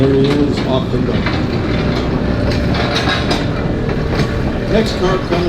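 A museum trolley car rolls along rails with continuous rumbling and rhythmic clickety-clack over the joints, loud and nearby, at a trolley museum event.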